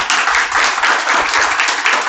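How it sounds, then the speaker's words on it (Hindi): Students clapping together in a classroom, a dense and steady burst of applause that holds at a fairly loud level for about two seconds, with no talking over it. "तो एक बार खुद के लिए जोरदार तालियां बजा दीजिए"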